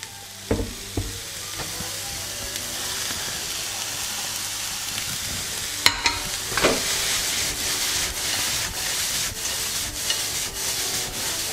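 Onions and lardons sizzle in a hot frying pan for tartiflette. The frying crackles continuously up close, punctuated by occasional knocks and scrapes of a utensil against the pan.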